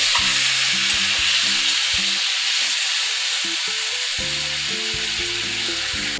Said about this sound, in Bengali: মশলাটা অল্প অল্প জল দিয়েই আমরা ভেজে নেব